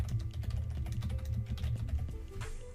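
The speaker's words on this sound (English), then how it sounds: "I type, for example, Spirit Airline," Rapid typing on a computer keyboard, dense quiet key clicks in an irregular steady stream close by, with no voices.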